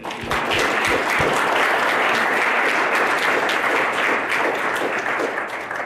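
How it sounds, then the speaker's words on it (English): Steady, dense applause from a large crowd at an academic symposium's closing remarks, sustained and loud throughout with no letup. "give them a round of applause"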